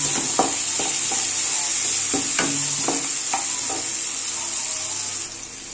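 Onions fry in a pan with a constant bright sizzle, while a utensil stirs and scrapes against the pan in a string of irregular knocks before the sizzle eases slightly at the end.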